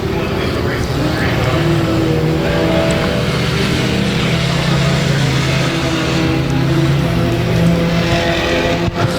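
Race cars roar through lap traffic at Rose Bowl Speedway, a loud continuous engine drone from several cars passing close by, with a commentator talking over it.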